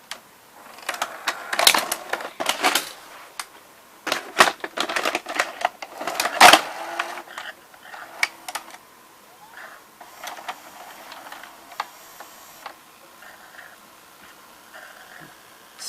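A Zenith VRS-60 VCR's mechanism after stop is pressed, a burst of close rapid mechanical clicks and clatter that settles into fainter whirring and occasional clicks.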